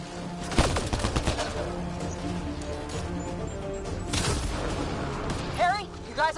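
Rapid bursts of gunfire from Mass Effect Andromeda combat crackle and clatter across the scene, mixed with impacts and loud effects while voices shout over the fighting.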